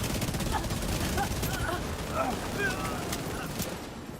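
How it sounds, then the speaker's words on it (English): An SMG9 submachine gun fires in a video game, dense rapid bursts of loud gunfire running almost continuously with a few faint tonal blips over the top. "I love how dinky the SMG9 looks though."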